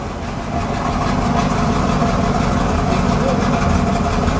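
A 1978 Pontiac Trans Am Special Edition with its 6.6 V8 idling, a loud, steady, close rumble that holds even throughout.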